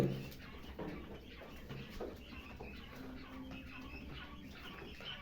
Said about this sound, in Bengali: আমার এখানে আছে 120টা কোয়েল পাখি।